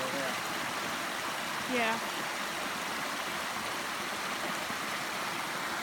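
Water gushing from shotgun holes blasted in an above-ground pool, a steady broadband rush with a brief voice partway through.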